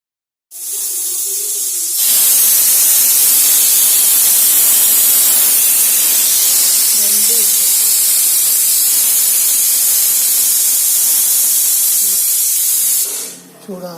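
Pressure cooker cooking mangoes releases a loud, sustained hiss of venting steam that starts suddenly, holds steady for about eleven seconds, then cuts off.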